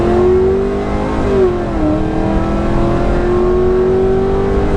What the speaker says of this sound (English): And always do a burnout to make sure everything is working properly.